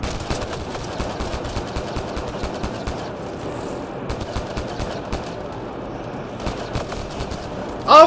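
Rapid automatic gunfire from a Mass Effect Andromeda online firefight with raiders at Firebase Derelict, dense bursts of shots rattling steadily over a busy combat backdrop with a louder blast right at the end.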